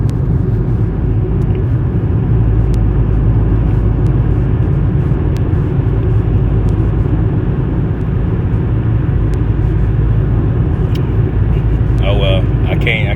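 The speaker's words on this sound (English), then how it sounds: "I'm currently driving right now." A car being driven, heard from inside the cabin as a loud, steady low road rumble and engine drone throughout, with a voice talking over it near the end.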